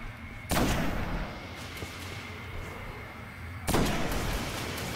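Two heavy weapon blasts in the Destiny video game, each a sharp, booming shot followed by a lingering rumble, a few seconds apart over a steady background hum.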